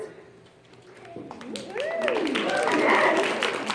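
Applause rises from a membership meeting audience for the incoming president-elect, swelling from sparse claps into a full, sustained round, with voices calling out over it.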